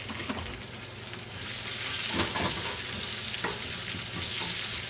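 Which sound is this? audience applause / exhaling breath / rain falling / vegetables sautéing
vegetables sautéing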